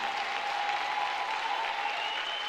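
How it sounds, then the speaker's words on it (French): Worship-service applause from a congregation, a short burst of steady, dense clapping with a faint sustained tone running through it. "Applaudis très bien le Seigneur des Seigneurs."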